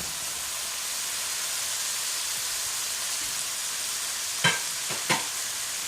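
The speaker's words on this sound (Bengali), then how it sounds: "এখন একটু নেড়ে চেড়ে সমস্ত মশলার সাথে ফুলকপিটা মিশিয়ে নিচ্ছি।" Cauliflower fries in a spice masala in a pan with a steady, bright sizzle and hiss, and near the end two soft scraping stirs cut through it. No one speaks.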